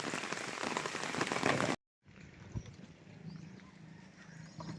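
Heavy rain pours steadily onto a rural fish pond on an afternoon, a loud even hiss that stops abruptly, leaving a quieter wet ambience with scattered drips.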